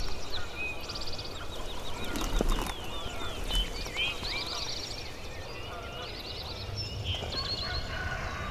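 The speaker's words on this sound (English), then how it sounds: "There's a few different turkeys gobbling right now, and then he just gobbled." Several wild turkeys gobble from the timber some distance back from a field edge at sunrise, bursts of rattling gobbles rising over a busy dawn bird chorus, faint and far off.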